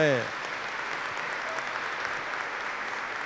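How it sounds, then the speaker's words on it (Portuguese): A congregation applauds the children at Mass in the Nossa Senhora de Lourdes cathedral in Apucarana. A brief voice opens the clip, then steady, dense clapping fills the room evenly to the end. "Uma salva de palmas para nossas crianças que elas merecem."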